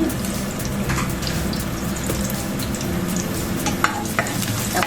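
Garlic and onion sizzle in hot oil in a frying pan while bitter melon is being cooked, a steady crackling hiss with occasional stirring scrapes, close and continuous without speech.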